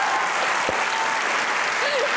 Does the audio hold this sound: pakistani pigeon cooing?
no